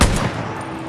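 Gunfire from a post-apocalyptic first-person shooter, Far Cry New Dawn, with a loud burst right at the start that quickly decays into a lingering rumble.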